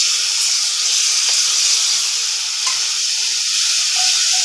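Onion paste hisses and sizzles steadily in a hot pan in a home kitchen, a close, continuous bright frying crackle with no talking.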